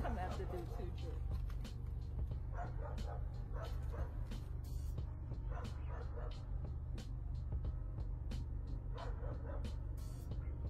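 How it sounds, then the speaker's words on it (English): A dog barks repeatedly and excitedly, loud sharp bursts coming in irregular clusters over a steady engine rumble, with someone speaking at times. "Y'all heard that dog going crazy"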